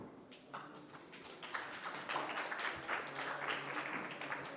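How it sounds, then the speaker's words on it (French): A conference audience claps steadily, the applause building from scattered claps to a fuller, sustained round that carries on to the end. "On peut l'applaudir."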